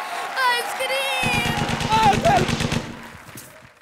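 A rapid burst of automatic gunfire rattles off in quick succession under high whistling tones, then fades away, on a comedy stage show.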